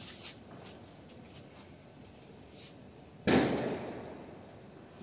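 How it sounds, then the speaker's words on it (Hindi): A single sharp sky shot firework from a MORI Haldi 120-shot cake bursts loudly, then fades with a short crackling tail over quiet outdoor background noise. "बम है? नहीं स्काई शॉट है।"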